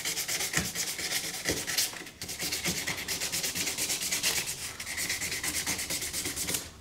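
Frets on a pallet-wood guitar build are sanded with 400 grit sandpaper: steady, rhythmic back-and-forth rubbing strokes, close and fairly loud, with one brief pause midway and no talking.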